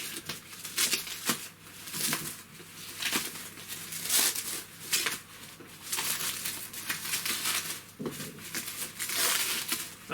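Cardboard and plastic packaging of a Lego parcel torn and crinkled open by hand, a string of sharp ripping and rustling bursts at close range, with quiet pauses between them.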